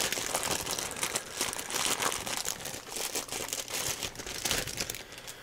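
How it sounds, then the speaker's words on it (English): Packaging comes off a new replacement battery for a Samsung SM-T805 10.5-inch tablet, making continuous close crinkling and rustling with fluctuating loudness and no talk. "let me just unwrap this"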